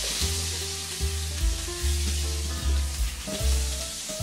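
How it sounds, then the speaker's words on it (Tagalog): Onions sautéing in butter and olive oil in a pan, a steady close sizzle broken by regular stirring scrapes and soft knocks, with no talk. "Igisa ang sibuyas sa butter at olive oil."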